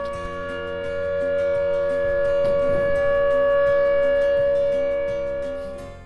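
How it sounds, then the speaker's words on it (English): A tornado warning siren wails steadily and loudly throughout, holding a sustained tone that swells slightly in the middle, with no talking. "we could sure hear the sirens"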